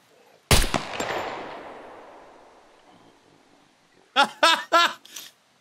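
Gunshot in the video game Scum: one sharp, loud blast with a long echoing decay, then a quick burst of four rapid shots a few seconds later, with no talk.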